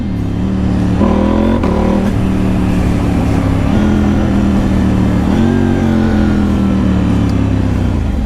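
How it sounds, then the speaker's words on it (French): A KTM 890 Duke motorcycle engine accelerates hard, its pitch rising and then dropping abruptly at several quick clutchless quickshifter gear changes. "je passe des vitesses sans embrayage regardez"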